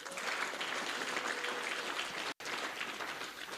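A big round of applause fills a hall at a university law class reunion, dense continuous clapping at low, distant-sounding level with a brief dropout midway.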